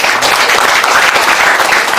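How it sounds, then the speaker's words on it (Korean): Loud, steady applause from a seated crowd at a launch ceremony for a joint committee on freedom of expression, with many hands clapping continuously and no talking over it. "다시 한번 박수 부탁드립니다"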